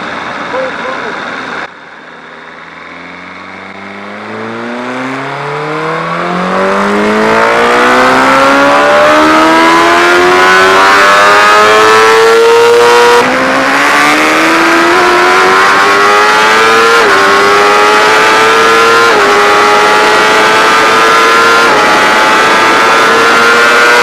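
A loud, close car engine at full throttle climbs steadily in pitch through several gear changes, roaring continuously for the whole stretch.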